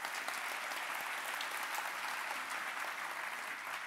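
An audience at a lightning talks session claps as a vote to keep going, the sustained, even applause distant and fairly soft, with no talking over it.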